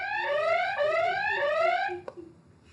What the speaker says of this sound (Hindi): उसने बजर दबा दिया।